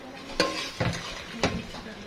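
Fried okra is tipped into a pan of spiced masala and stirred, giving three sharp scraping clinks of a spoon against the pan over a low sizzle.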